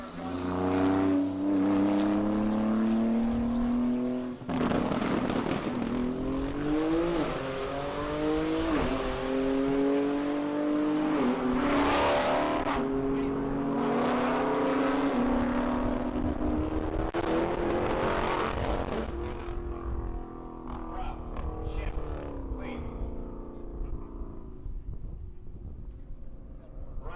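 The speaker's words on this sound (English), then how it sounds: "That's a fast Porsche." Fast Porsche racing past at the TX2K21 event, a loud engine wail rising and falling in pitch through the gears as it passes close, continuous for over twenty seconds with wind buffeting the microphone.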